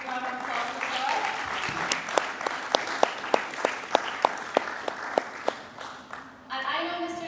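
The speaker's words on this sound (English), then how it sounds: "Please, big round of applause for Saurav." An audience at a squash talk session welcomes Saurav Ghosal with applause that starts as a soft spatter, then turns into a run of evenly spaced sharp, loud claps before fading under a voice at the end.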